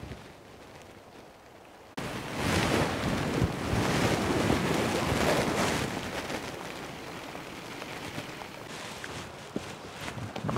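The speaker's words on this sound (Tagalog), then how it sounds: "Lakas ng hangin, no?" Strong wind blowing outdoors on a cool day of about 22 degrees, a loud rushing roar that starts suddenly and buffets the microphone, then gradually eases slightly while staying steady with no talking.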